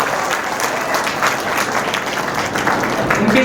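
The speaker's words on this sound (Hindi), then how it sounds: "तो एक बार इनके सम्मान के लिए जोरदार ताली बजा दीजिए" An audience claps loudly at a Hindi kavi sammelan poetry gathering, a close, dense burst of applause with slight surges that runs throughout.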